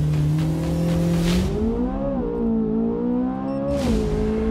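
Chevrolet Corvette Z06 with 645 horsepower sprinting from 0 to 100, its engine revving hard and climbing through quick gear shifts, loud and close, with a brief pause in the roar between changes.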